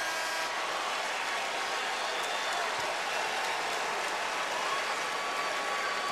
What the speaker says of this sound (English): And look at the Carolina fans all standing and applauding as well.